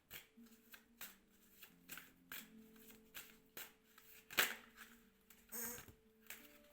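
Tarot cards being shuffled and drawn at a reading, with soft riffling and sharp card snaps in an irregular patter, close but quiet, no speech over it.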